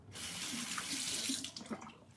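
Running tap water splashes steadily into a sink to rinse off a OneBlade shaver, a close, continuous watery hiss that tapers off toward the end with no talking.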